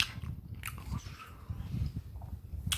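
Delta-8 edible being chewed close to the mic, soft wet bites and munching repeating irregularly, faint and intimate with quiet mouth noises between chews.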